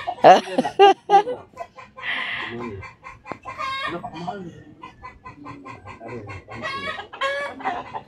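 Chickens cluck and squawk repeatedly nearby, with people talking intermittently among the birds.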